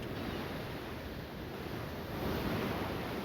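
Wind and surf on a Gulf beach off the Texas coast at Galveston: a steady, dense roar of waves and gusting wind, close and constant with a slight swell toward the end.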